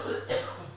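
A man coughs once, briefly and fairly close, during a sports talk broadcast, over a low steady hum.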